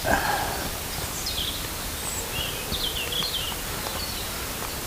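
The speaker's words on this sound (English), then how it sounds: "So if you can hear all the birdsong around, they're going nuts." Birds singing along the Oldham Way on a quiet walk, scattered high chirps and trills coming from several directions at moderate distance over a soft outdoor hiss, with no talk.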